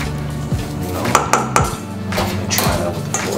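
Garlic and onion powder being worked into pasta dough in a bowl, with scraping, knocking utensil clatter and a few sharper taps over a steady background hum.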